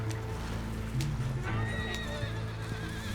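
Horse in a video game, ridden over uneven ground, whinnying loudly and close with hoof clip-clops alongside, a continuous low hum beneath and no talk.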